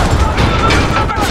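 A Call of Duty: Modern Warfare (2019) explosion, a dense, loud burst of broadband noise with heavy low rumble that fills the whole moment, with crackling debris and battle clutter layered through it.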